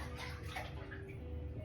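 Water runs and sloshes steadily at low volume while a bird's water dish is cleaned, a continuous faint wash with no speech.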